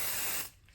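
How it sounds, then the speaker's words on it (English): Grease spray from an aerosol can hisses onto a baking tray in one steady, close burst of about half a second, then cuts off into quiet room tone. "I use this grease spray. You just sprayed all over."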